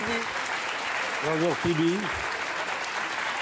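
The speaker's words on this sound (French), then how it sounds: "je vous demande d'applaudir Tibi" A French TV studio audience applauds in a broad, steady wash that runs the full length, while a host greets a guest over it.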